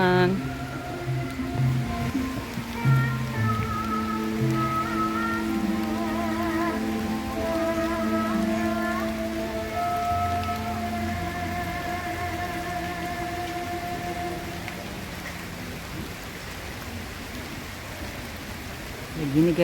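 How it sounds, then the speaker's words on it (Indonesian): Rain patters steadily at a village-style restaurant, a continuous wash of drops beneath voices and tonal background sound that fade slightly toward the end. "Ini hujan."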